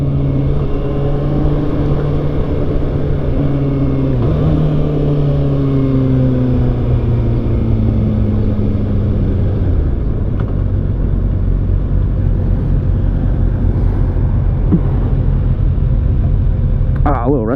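A Kawasaki ZX6R motorcycle rides in second and third gear through 35 mph road traffic, its engine droning steadily close up with shifting pitch that falls after a gear change and a constant rumble underneath.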